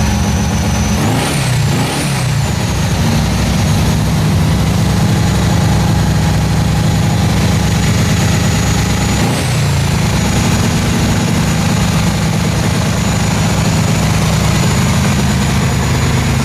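A gaseous-fueled engine runs steadily on a test stand, a loud continuous low rumble at idle with a brief high whistling rise near the start and again midway, no speech.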